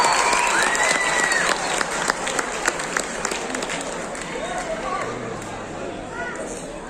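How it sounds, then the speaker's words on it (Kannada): Audience applause for a music troupe at a Kids of India stage event, sustained dense clapping from a crowd throughout with a few brief voices rising over it. "ಮತ್ತೊಮ್ಮೆ ಈ ತಂಡಕ್ಕೆ ಒಂದು ಜೋರಾದ ಚಪ್ಪಾಳೆ ಬರಲಿ"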